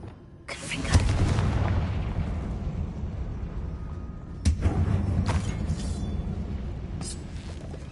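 Two booming magical blasts of the Confringo spell inside a disused mine in a Hogwarts video game, each a sudden loud burst followed by a long rumbling decay.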